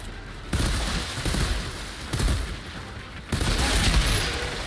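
Sustained automatic assault rifle fire in the Outriders shooter game, a loud, dense, continuous rattle of rapid shots with a few heavier bursts and booms, without pauses across the whole stretch.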